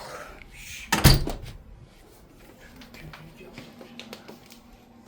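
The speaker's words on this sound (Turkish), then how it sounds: "Şimdi kapıyı örtebilirim." One sharp, loud thud of a door being shut close by, followed by quiet room sounds and faint small knocks.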